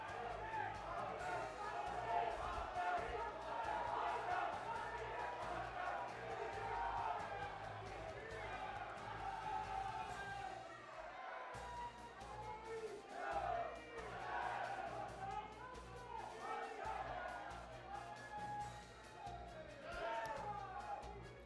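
A crowd at a political election event in Rajasthan chants and shouts slogans in loud, rhythmic collective bursts that carry on continuously with cheering mixed in.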